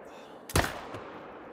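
A single loud rifle shot fired at a whitetail deer in The Hunter: Call of the Wild, a sharp close crack with a fainter second report just after, over quiet ambient background.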